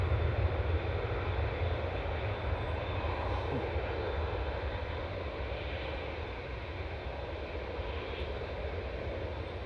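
A Ryanair jet airliner's engines drone in a loud, continuous rumble with a strong low hum at Manchester Airport, steady throughout and fading slightly toward the end.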